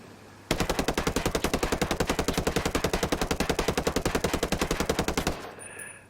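Tavor assault rifle from Ghost Recon Breakpoint firing one long, steady full-auto burst of about five seconds, with rapid, evenly spaced loud shots that stop abruptly, followed by a faint click.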